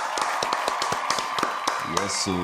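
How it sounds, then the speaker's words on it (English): A handful of crisp, separate claps sound close by in a loose, steady rhythm for about two seconds, ending as a voice starts to speak. "A round of applause for you."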